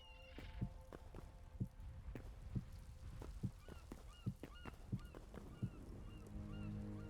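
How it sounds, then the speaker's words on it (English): Seagulls call faintly in the distance in the video game Hytale, scattered soft cries over a quiet backdrop dotted with light tapping steps. "With the sounds of seagulls peacefully in the distance."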